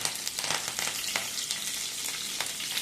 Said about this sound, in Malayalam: കടുക് ഇട്ട് കൊടുക്കാം. കരിവേപ്പില ഇട്ട് കൊടുക്കാം.